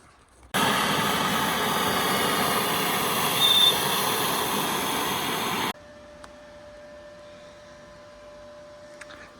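Wire welding on cast steel parts during a car restoration: a steady, loud crackling hiss runs for about five seconds and then cuts off abruptly, leaving a faint electrical hum and a few light clicks.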